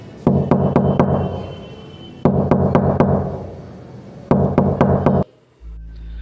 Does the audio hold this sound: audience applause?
no